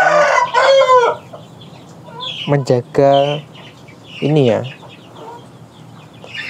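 Healthy chickens let out in a semi-open pen on bare ground to sun themselves, clucking and crowing loudly nearby in bursts while a person talks over them.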